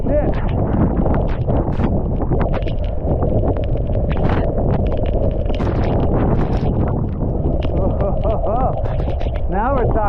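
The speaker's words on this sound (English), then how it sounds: "Oh, now we're talking high wind right there." Hurricane Ian's high winds in Charleston, South Carolina, roar and buffet a nearby microphone in a loud, continuous rush that swells and gusts throughout.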